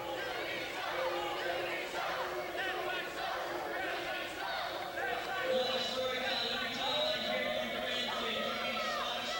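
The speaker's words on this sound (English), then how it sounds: "Crowd showing their love for Doogie." Wrestling crowd at an August Heat event cheering for the referee Doogie, a steady, dense roar of many voices with scattered shouts that holds at an even level throughout, with no clear break or pause.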